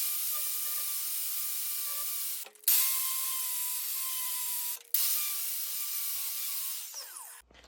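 A lawn mower blade is sharpened with long, steady abrasive strokes. Three continuous harsh rasping passes are separated by brief pauses, loud and close with no voices.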